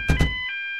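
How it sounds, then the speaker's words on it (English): A fire alarm goes off in the Emergency 4 firefighting game: two quick tonal beeps, then a sustained electronic ringing tone that holds steady, loud and close, with no voices. "Fire alarm activation."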